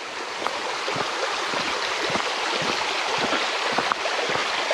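Water of the Fraser River flowing steadily, a broad rushing wash that stays constant and fairly loud throughout with no voices.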